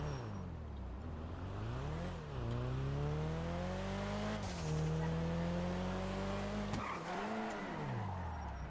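Modded Nissan Skyline engine in GTA 5, revving hard and loud through quick upshifts, each climb in pitch dropping sharply at the gear change about every two seconds, with brief tire squeal.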